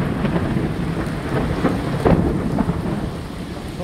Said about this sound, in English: Guys, there is thunder and lightning.